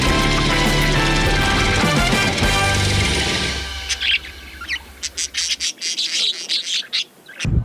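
Ornamental exotic birds on a farm in Kiserian, Kajiado County give a string of short, bright chirps and calls, appearing after a dense musical passage fades and continuing as separate bursts near the end.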